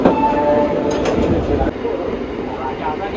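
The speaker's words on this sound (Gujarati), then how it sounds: "લાઈવ રૂપથી જોઈ લો ટ્રેન ચાલુ છે" A moving train rumbles steadily with broadband rail noise and a brief mid-clip surge, loud and close throughout, with a voice talking over it.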